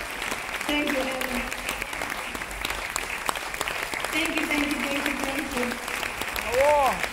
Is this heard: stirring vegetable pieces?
no